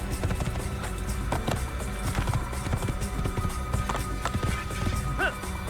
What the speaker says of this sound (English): Altaïr rides on a horse.